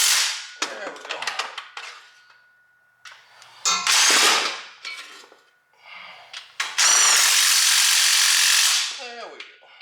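A Hitachi power tool used during removal and refitting of a 1996 Nissan 240SX S14 transmission gives loud, harsh rattling bursts, one brief and one sustained for several seconds, between clicks and faint speech.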